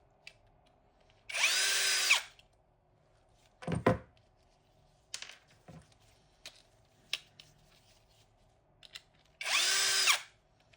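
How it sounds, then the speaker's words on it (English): A power tool whirs in two short bursts while removing a part from a Floatwheel ADV2 electric board, with scattered clicks and knocks of handling between them, close and fairly quiet overall. "And now I'm just gonna remove it quickly here using some power tool."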